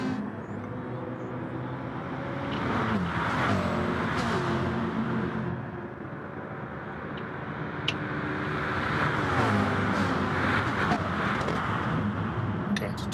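Race car engines roaring in the GT Sport video game at Autódromo de Interlagos, Brazil, a loud continuous drone with rising and falling revs and gear changes, cars passing close.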